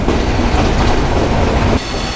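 Banalata Express train running on the tracks near Dhaka, a steady loud rumble of wheels and carriages with a slight drop in level near the end.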